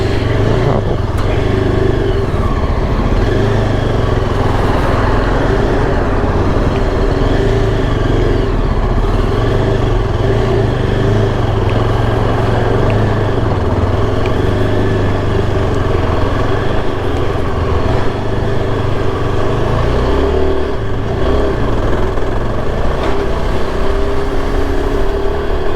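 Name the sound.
road traffic heard during a motorcycle ride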